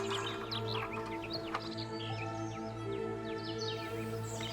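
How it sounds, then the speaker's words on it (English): Morning birdsong on a ranch: several birds chirp and trill in quick overlapping phrases, fairly faint and distant, above a steady low hum. "Hearing the bird song in the morning"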